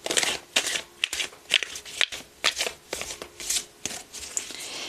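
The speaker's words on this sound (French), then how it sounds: "Je vais te tirer 3-4 cartes conseils" Oracle cards being shuffled by hand for a card reading, a run of crisp riffling and slapping bursts in an uneven rhythm, close and fairly loud, with no talking over them.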